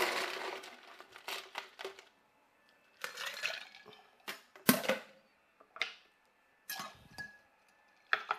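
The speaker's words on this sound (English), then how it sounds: "Let's get us some ice." Ice cubes are scooped and dropped into a shaker for a spicy chocolate jalapeno martini, a run of sharp clattering crunches and clinks in bursts with quiet pauses between.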